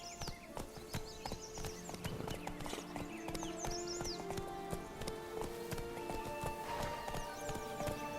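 Rhythmic clip-clop of the horse Roach's hooves galloping in The Witcher 3: Wild Hunt, steady and close, with occasional snorts and whinnies over ambient game sounds.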